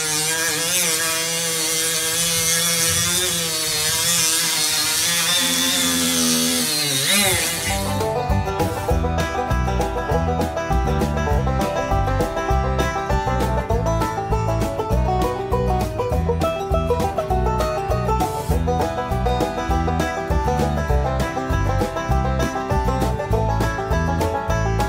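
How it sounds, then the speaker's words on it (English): A Milwaukee angle grinder fitted with a small disc grinds down a ridge in body filler on a tribute truck outdoors, a loud continuous rasping whine after a brief rising motor spin-up. "I'm gonna try and knock it down with the Milwaukee angle grinder here"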